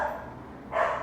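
Dogs bark outdoors, one short bark near the end after a stretch of faint background noise, moderately loud and heard alone.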